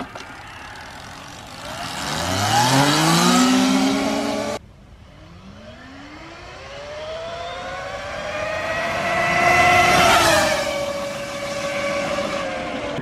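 Electric dirt bike in its fourth, most powerful mode on a top-speed run, its motor whine climbing steadily in pitch as it accelerates hard, cutting off briefly partway through before rising again to a loud, sustained high-speed whine, no one talking.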